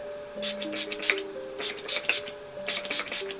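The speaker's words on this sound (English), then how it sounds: "I'm going to set everything with my L'Oreal makeup setting spray" Several quick hissing sprays in short bursts of L'Oreal makeup setting spray, close up, over a faint steady background tone.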